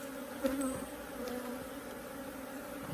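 Bees drone steadily over an open nuc frame with a laying queen and larvae, a close continuous buzz with one brief louder pass near the start.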